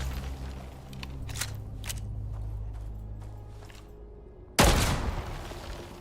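A few scattered pistol shots crack in the Icarus survival game, with a louder close blast near the end over a low steady hum.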